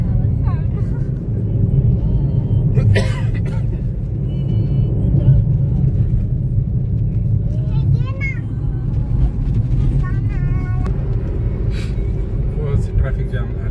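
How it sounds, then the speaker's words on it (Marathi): A heavy Diwali traffic jam on the Pune-Nashik highway makes a constant low engine rumble of many idling and creeping vehicles, with occasional horn toots and a voice speaking over it. "ट्रॅफिक जाम झालेली, मोठी ट्रॅफिक आहे."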